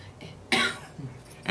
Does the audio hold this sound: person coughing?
yes